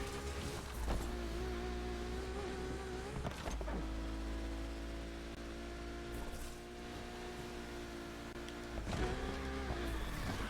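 A car engine drones steadily while driving in a racing video game, with a sustained harmonic hum and brief shifts and swells near the start and end, heard alone without talk.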